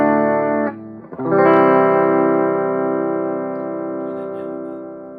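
A loud distorted electric guitar on the bridge humbucker, through an Orange Crush 20RT amp with no reverb, rings out in sustained chords, with a brief break and a fresh strum about a second in, then a long fading sustain.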